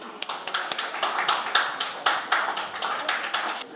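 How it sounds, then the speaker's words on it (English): An audience at a photography expert talk in India claps to welcome the speaker, a steady patter of many hands with sharper individual claps standing out, moderately loud and continuous. "Let's welcome him with a big round of applause"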